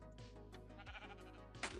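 A sheep in a Minecraft sheep shearing farm gives a few short, close bleats over a steady low hum.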